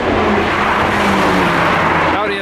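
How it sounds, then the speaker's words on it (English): An Audi S3 engine revs hard and roars close by, a loud continuous growl that holds steady before rising in pitch near the end. "Audi S3 ripping the streets."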